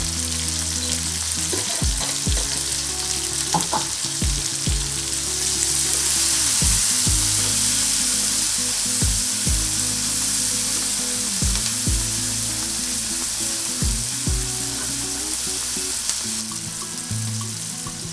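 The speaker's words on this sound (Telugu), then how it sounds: "కొంచెం ఉప్పు వేస్తే టమాటాలు అనేది మగ్గుతాయి తొందరగా" Tomatoes sprinkled with salt cook and soften in a hot pan, giving a loud, steady sizzle close by, broken now and then by the low scrape and knock of stirring.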